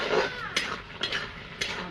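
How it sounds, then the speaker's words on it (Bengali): A pot of pumpkin curry is stirred, with a few soft scrapes and light clinks of a utensil against the pot at a close, quiet level. "নাড়াচাড়া করে দেবো।"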